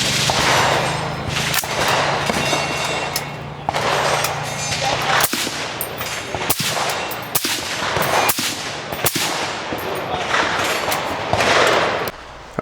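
Suppressed gunfire from rifles fitted with Dead Air suppressors at an outdoor shooting event, made up of a series of sharp, irregular reports with dull tails that come over a steady background hiss, some shots closely spaced.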